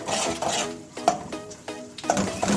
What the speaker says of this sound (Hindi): इसको अब हम असली घी में अच्छे से मिक्स करेंगे, भूनेंगे